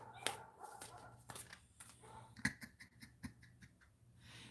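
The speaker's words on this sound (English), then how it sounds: "They're barking back at her now." Dogs bark in short, faint yips and woofs from some distance outdoors, scattered irregularly over a few seconds against low background noise.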